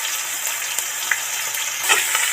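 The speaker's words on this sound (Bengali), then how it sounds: "পেঁয়াজ কুচিটা কড়ার মধ্যে উঠিয়ে দিচ্ছি।" Chopped onions frying in a wok, a steady bright sizzle with a few small crackles and stirring knocks, close and continuous without talk.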